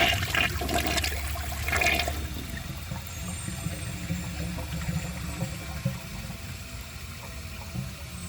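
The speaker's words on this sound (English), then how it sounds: "So here's a press and release flush." A press-and-release flush of a 2022 Mainstays high-efficiency toilet: a loud rushing surge of water for about two seconds, then a steady hissing refill and gurgle that carries on to the end.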